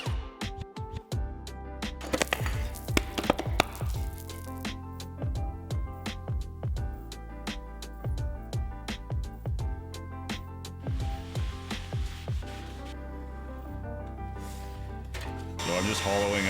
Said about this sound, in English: So I'm just hollowing out the space in between the dados to take the string.